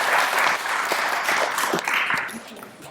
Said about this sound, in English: Mayor Bridgman, let's give a big round of applause